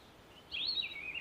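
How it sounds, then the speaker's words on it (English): Birds singing outside a quiet kitchen in the morning, a short high chirping phrase that warbles and trails off, faint and somewhat distant, with no talk. "I can hear the birds outside."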